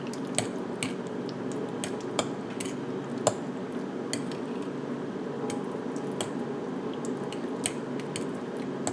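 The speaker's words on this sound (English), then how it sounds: "I'm going to take my time and stir this in" Ricotta and curd are stirred into a cauliflower mac and cheese mixture, giving a continuous soft, wet squishing with occasional faint clicks of a utensil against the bowl, steady and close with no voices.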